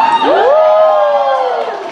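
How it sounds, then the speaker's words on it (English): An audience at a fan convention cheering and whooping, a loud, close, rising-and-falling vocal cheer lasting about two seconds before tapering off. "Don't clap too loud."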